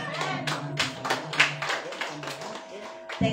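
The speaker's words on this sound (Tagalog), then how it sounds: "Palakpak para sa Panginoon." A church congregation claps at a worship service, a run of quick close handclaps in an irregular rhythm, with voices speaking and calling out around them.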